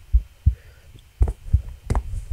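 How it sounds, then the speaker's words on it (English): A heartbeat thumps in the horror video game Which, as deep, muffled beats in a steady rhythm of about three pulses over two seconds, loud and close, set against a low ambient hum with no speech. "All I hear is a heartbeat. Is that my heart?"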